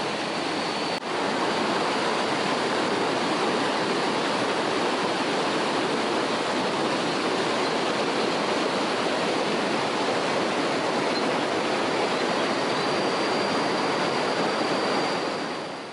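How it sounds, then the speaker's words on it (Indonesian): Waterfall Curug Cikanteh beside Curug Ciatel in Ciletuh Geopark, Sukabumi, roaring as a steady, dense broadband rush of falling water, loud and continuous throughout with no talk. "Di jalur trekking ini pun kita bisa melihat Curug Ciatel yang berlokasi bersampingan dengan Curug Cikanteh."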